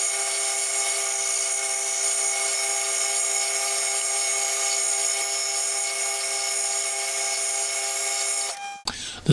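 An aluminium extension piece is turned down to diameter on a lathe, a steady tonal machine whine with cutting hiss running continuously before stopping abruptly near the end with a clunk.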